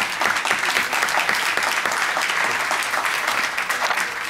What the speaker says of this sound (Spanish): Vamos a darle un gran aplauso a don Rafael.